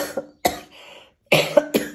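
A person coughs in several harsh bursts with short pauses between, close to the microphone.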